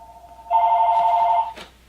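A telephone rings once, with a steady electronic warble lasting about a second, moderately loud, followed by a brief click; no one speaks.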